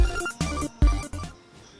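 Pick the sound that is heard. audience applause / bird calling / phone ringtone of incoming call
phone ringtone of incoming call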